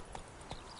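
Horse hooves clip-clopping in The Witcher 3 video game, a couple of quick, close hoof clops over a steady ambient game background.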